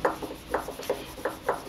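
A rust eraser rubbed over steel bonsai tools to lift rust and tree sap, making short scratchy rubbing strokes in an irregular rhythm, close and fairly quiet with no voices.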